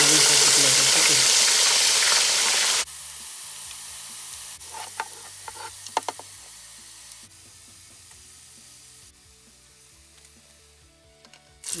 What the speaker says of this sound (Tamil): இந்த பச்சை மிளகாயும் போட்டு பொரிச்சு எல்லாம் பொரிச்சு எடுத்தாச்சு.